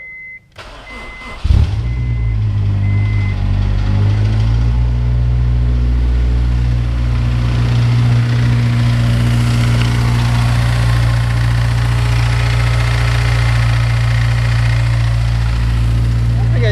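A car engine cranks and catches, then settles into a loud, steady low idle rumble that holds without change.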